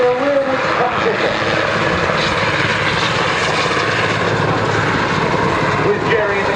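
A Swiss Eurocopter Super Puma Cougar helicopter flying an airshow display roars steadily and loudly with a dense rotor and turbine drone, while a commentator talks over it.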